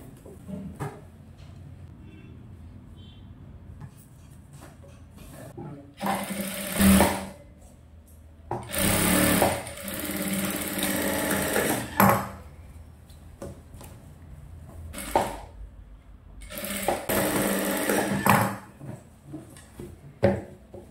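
A sewing machine stitches a blouse, running in several loud bursts of a few seconds each, separated by quieter pauses filled with handling noise.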